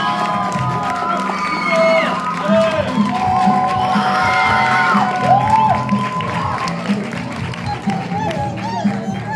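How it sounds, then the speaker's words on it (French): A large event crowd at a cosplay convention awards ceremony claps and cheers, with whoops and scattered shouts over a continuous roar of applause, loud and sustained, with brief snatches of voices mixed in. "On peut applaudir l'équipe technique s'il vous plaît"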